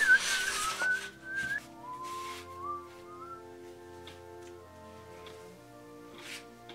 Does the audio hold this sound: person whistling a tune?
yes